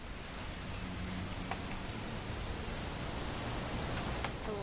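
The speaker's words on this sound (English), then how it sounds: "It's gonna rain the whole weekend, isn't it?" Steady rain falls in What Remains of Edith Finch, a dense, even hiss of drops on surfaces that holds at the same level throughout with no talk over it.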